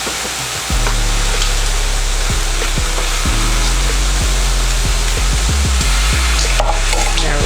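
Vegetables fry and sizzle in a hot pot for vegan ramen, a steady loud hiss with repeated clacks of a utensil stirring and scraping the pot, close up, with no talking.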